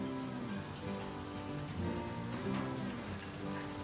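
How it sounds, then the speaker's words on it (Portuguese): Steady rain falls on a covered wooden veranda with a three-slope roof of heavy timber, a dense, continuous patter close by with no voices. "E a chuva tá caindo."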